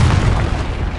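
A Confringo fire spell explodes in the Hogwarts Legacy video game, one loud close boom with a short rumbling decay.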